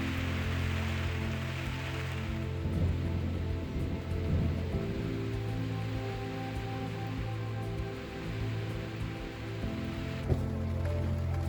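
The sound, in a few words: rain falling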